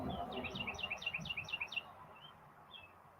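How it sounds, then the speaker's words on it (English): Outdoors in the morning, a bird chirps a quick run of six or seven bright repeated notes, then two softer isolated calls, moderately distant over low background noise. "that bird started chirping and got me"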